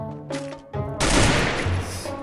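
Shots from a SCAR rifle in the Free Fire video game ring out loud and close: a couple of sharp cracks, then a dense burst of gunfire with trailing echo, with no talking.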